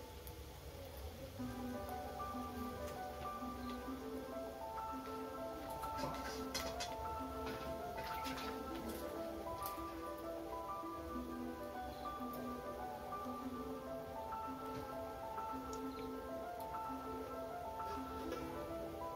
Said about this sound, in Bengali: আমি কিন্তু এরকম চারটা চারটা করে বড়াগুলো ভেজে নিচ্ছি।